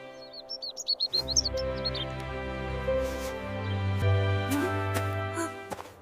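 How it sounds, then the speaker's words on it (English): A small bird chirps in a rapid burst of high tweets in a frozen winter garden. A sustained low-pitched tone then takes over, with scattered clicks. "Can you hear the bird?"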